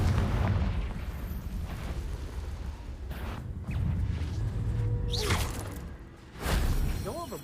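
Confringo fire spells go off in the Hogwarts Legacy game, deep booming bursts and whooshes under combat noise, with voices and grunting speech sounds between blasts.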